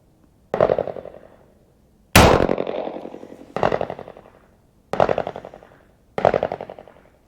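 An American Derringer BTJ double-action .38 Special fires five sharp, loud shots at uneven intervals of about one to two seconds, each one decaying quickly with a short echo at an outdoor range.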